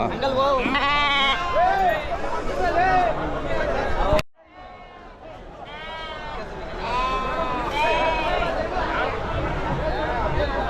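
Many sheep bleat over and over, close and loud, a crowded chorus at a livestock market with people chattering in the background.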